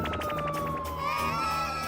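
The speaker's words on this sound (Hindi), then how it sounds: "इसका मतलब जब तक भूतनाथ आएगा नहीं तब तक ये सायरन ऐसे ही बजता रहेगा।" A loud siren wails continuously, its pitch gliding steadily downward and then holding, with a low background rumble underneath.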